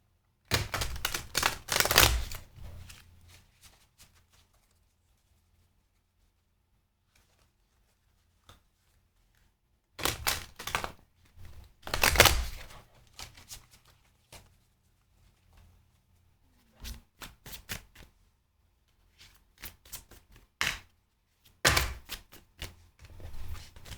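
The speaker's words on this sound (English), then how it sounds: "Let's pull some oracle cards." Oracle cards are shuffled and pulled, giving close, dry, rapid riffling bursts in several separate spells with quiet gaps between them.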